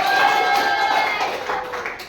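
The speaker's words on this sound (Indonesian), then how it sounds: "tepuk tangan sekali lagi untuk kelompok satu" Students in a classroom clap for a presenting group, a brisk burst of applause mixed with voices that tapers off toward the end.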